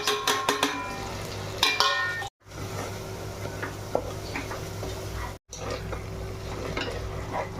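Ground turmeric, red chilli powder, kitchen king and Maggi masala are stirred into hot frying oil for a restaurant-style mixed vegetable dish, with a soft sizzle, a few spoon clinks against the pan early on, and brief dropouts.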